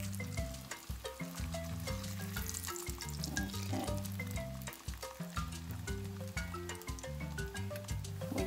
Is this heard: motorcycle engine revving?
no